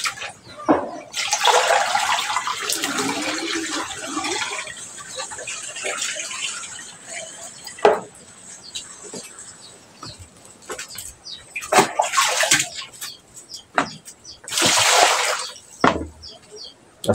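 Tap water gushing over bangus milkfish being washed, loud splashing runs that stop and start, with handling noises and brief pauses between rinses, and a voice speaking now and then.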